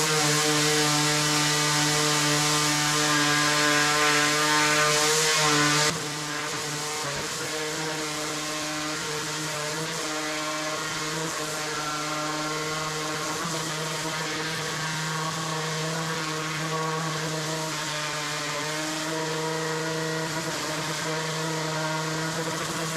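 Power sander working over an outdoor wooden bench, a steady droning whir with a rough abrasive hiss, loud and close, easing slightly in level after a few seconds and continuing without pause.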